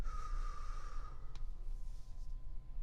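A single deep breath drawn in through the mouth during a singing breathing exercise, a close, breathy inhale of about a second that fades, followed by quiet room tone.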